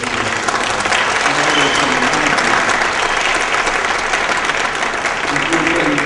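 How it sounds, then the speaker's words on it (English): A church congregation gives a loud, dense round of applause that fills the room and stays steady throughout, with a voice faintly audible underneath. "we wanted to just offer a round of applause"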